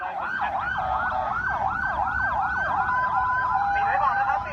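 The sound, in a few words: ambulance sirens at Bangkok airport runway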